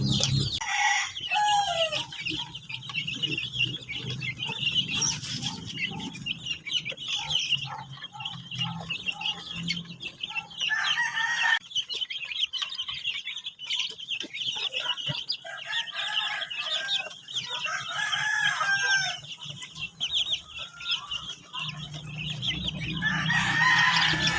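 Farm chickens at morning feeding time cluck and squawk busily, with roosters crowing and chicks cheeping in a dense, close flock chorus that carries on without pause.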